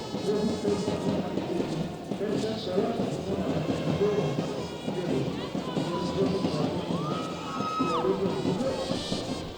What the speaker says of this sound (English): You can see the supporters club cheering them on.